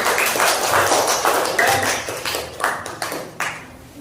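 A classroom of students applauding the winning group, uneven clapping from many hands with some sharp individual claps standing out, close by and fading toward the end.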